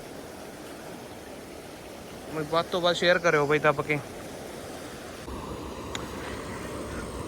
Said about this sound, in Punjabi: ਹੁਣ ਇਹਦੇ ਉੱਤੋਂ ਪਾਣੀ ਚੱਲੀ ਜਾਂਦਾ